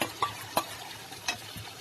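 A spoon stirs dal into fried leafy greens in a pan, scraping in a few distinct strokes over a steady, close sizzle.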